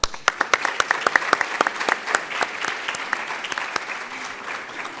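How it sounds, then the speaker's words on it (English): At a closing session of national commitments, an assembly claps for the delegation of Djibouti, sharp close claps over a broader roomful of applause that starts strong and tapers off within a few seconds. "Please, I'm asking the delegation of Djibouti to stand up and let's clap for them."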